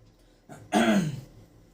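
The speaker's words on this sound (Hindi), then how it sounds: "गला थोड़ा फंसा हुआ है इसलिए थोड़ा सा खांसी आ जा रहा है" A single close, rough throat clearing with a short cough-like burst, preceded by a brief breath, alone in a quiet room.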